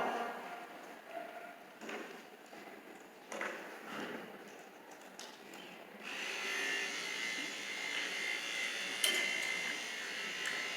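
Electric dog grooming clippers with a snap-on comb buzz on a Westie, starting with faint clicks and handling noises, then switching to a steady, close motor hum that continues to the end.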